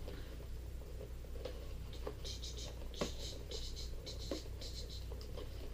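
A Crayola advent calendar door being eased open by hand, the cardboard giving soft scratchy scrapes and small paper ticks in a quiet room, with a low steady hum underneath.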